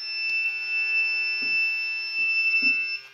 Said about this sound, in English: an ultrasonic sensor will detect and trigger the buzzer and the red LED